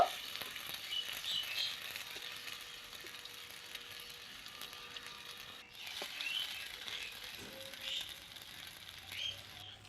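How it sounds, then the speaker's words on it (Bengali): Cut tomatoes shallow-frying in oil in a kadai, giving a steady soft sizzling hiss throughout with a few faint clicks as pieces are turned, and no voices. "টমেটোটাকে উল্টে পাল্টে হালকা করে ভেজে নেব"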